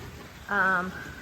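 Gentle rain falling for hours, a soft steady patter in the background with a brief tonal sound in the middle.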